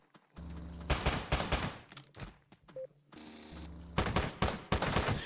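Gunfire rings out in the top-down shooter Teleglitch, coming in bursts of rapid shots separated by short pauses, loud and close, with no talk over it.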